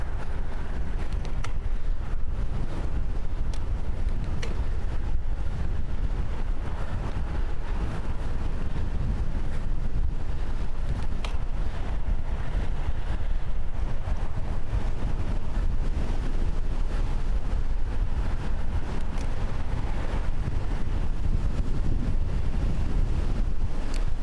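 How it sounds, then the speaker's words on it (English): Strong wind roars steadily against the microphone on a bicycle commute on Vancouver Island, a dense continuous rumble that lasts throughout with no talking. "Holy crap, it's windy."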